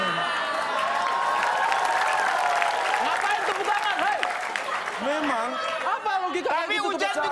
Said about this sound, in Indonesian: Ngapain tepuk tangan, hei?